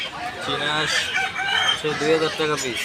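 Chickens at a crowded poultry and duck market cluck and crow in repeated short bursts, close and busy, over a noisy background murmur.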